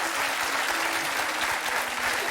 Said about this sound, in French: Ça, on applaudit.